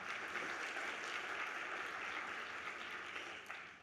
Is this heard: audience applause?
yes